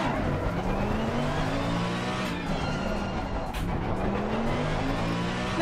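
Race cars in a racing video game at the Imola circuit, engines droning steadily at close range as the field moves off from the start, with rising engine pitch sweeps and a faint tire squeal.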